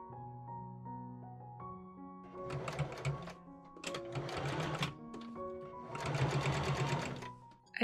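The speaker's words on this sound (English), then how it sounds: "I top stitch close to the edge around the outside of the placket." Sewing machine top stitching close to the edge of a skirt placket for an 1890s Victorian ballgown, three quick bursts of rapid mechanical stitching separated by pauses, with soft background music, no talk.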